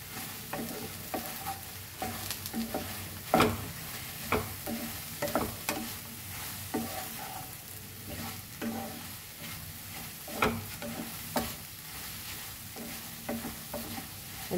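Okra and kokum amsol being stirred in a frying pan, a steady soft sizzle broken by repeated scraping strokes of the spoon at an irregular pace, close and moderately loud with no voices.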